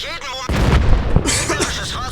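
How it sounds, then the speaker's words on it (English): A T-34 tank cannon fires in World of Tanks, one sharp, loud blast with a rumbling tail and a shorter burst soon after, while a voice talks over it. "the T-34 fires, I know I can kill him, and I get the kill shot"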